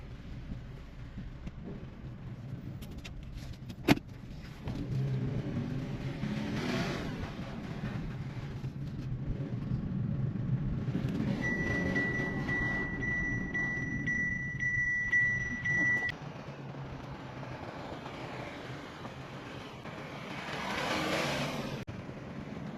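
A 2012 Opel Antara on a test drive after an oxygen sensor fault repair, with a low, steady engine and road rumble from inside the cabin, some faint clicks and a brief tonal chime partway through, and no talking.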